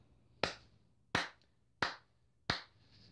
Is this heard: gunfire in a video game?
no